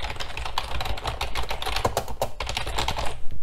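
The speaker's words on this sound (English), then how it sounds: "last item I want to show is this Microsoft Internet keyboard" Quick, steady typing on a late-1990s Microsoft Internet membrane keyboard, close and fairly loud, with soft, muffled keystrokes running continuously throughout and no talking.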